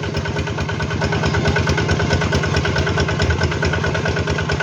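A small farm machine engine, used for puddling a rice paddy, runs steadily and loudly up close with an even, rapid chugging pulse, alone and without talk.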